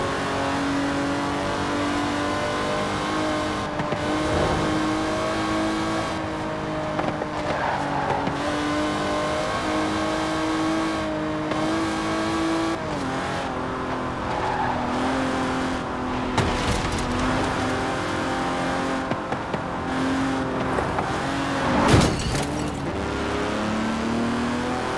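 A 1960s Aston Martin DB5 Vantage grand tourer with side-draft carburetors in Forza Horizon 4, its engine droning and revving through gear changes, with rising and falling pitch and brief bursts of acceleration, close and loud throughout.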